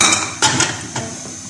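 Meat and lentils are tipped into a metal pressure cooker, with a few sharp clinks and knocks of metal against metal, close and fairly loud.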